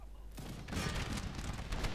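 Mounted cavalry fire muskets from horseback in the video game Empire: Total War, a sudden burst of crackling shots swelling into a loud ragged volley after a brief quieter start.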